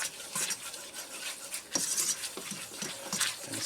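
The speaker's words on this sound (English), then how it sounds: "I'm going to stir this into a paste or a roux" Flour and butter are stirred into a roux in a pan for a cheese sauce, a metal utensil scraping and tapping against the pan in an irregular rhythm, close and fairly quiet with no talking.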